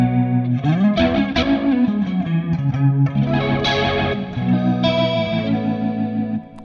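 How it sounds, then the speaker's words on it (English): Electric guitar through the rotary modulation effect of a ToneX FX pedal, swirling chorus-like wobble over sustained distorted chords and single notes, loud and close with no talking. "I never use rotary, but that sounds cool."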